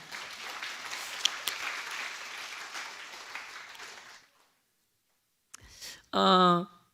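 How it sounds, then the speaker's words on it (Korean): Congregation applauding during a church testimony service, a steady broadband patter of clapping for about four seconds before it stops, followed by a brief silence and then a voice at the end. "박수 한번 부탁드립니다"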